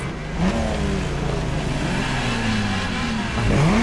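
Ferrari GTO supercar engine in a racing video game revving steadily under load, the pitch sweeping up and down through gear changes, loud and continuous with no talk.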